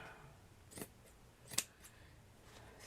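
Scissors snip paper pieces in half for a shabby chic book, two quiet distinct cuts heard close up in a hushed room.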